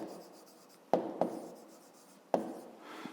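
A pen writes figures for a fifth-grade maths problem in short scratchy strokes, with a few sharp taps as it touches down on the paper. The writing is close and quiet, and no one speaks.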